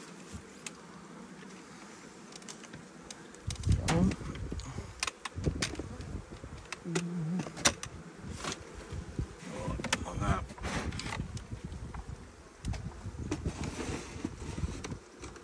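Honeybees around a hive during the first spring inspection, a buzzing drone rising and falling with close passes, mixed with handling knocks and rustles of frames and netting.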